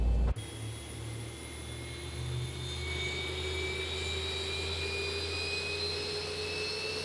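Engine 2 of a simulated Boeing 737 in X-Plane 11 spools up after a sharp click, its whine climbing steadily in pitch over a constant low rumble, with no talk.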